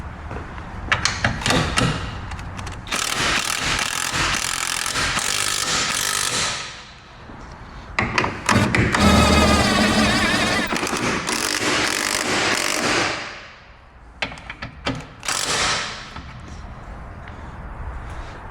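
A bolt on a Honda Civic is tightened with a ratchet or power tool, in loud, close bursts of mechanical whirring and clicking. The sound pauses briefly between runs, with some scraping tool handling between them.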